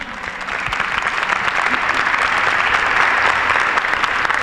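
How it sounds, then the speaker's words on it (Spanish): An audience at a student-community dialogue with candidates breaks into dense, sustained applause that builds slightly and stays loud and even throughout. "pedirles un aplauso para todos por lograr este ranking"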